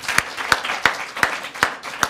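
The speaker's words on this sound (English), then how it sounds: "And keep that applause going, because that's a long walkway." Scattered applause at a BAFTA awards press event for the Outstanding British Film winners, with loud, close hand claps landing at a slow, even pace over a soft wash of background clapping.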